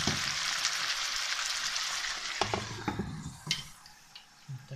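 Meat sizzling as it browns in a pan before stewing, a soft continuous hiss with scattered ticks and light clatter of stirring toward the end, close and fairly quiet, no voices.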